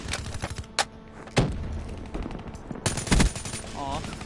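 Gunshots in Call of Duty: Black Ops 3 hardcore domination play, several loud separate cracks and short bursts spaced irregularly across a few seconds over background game noise.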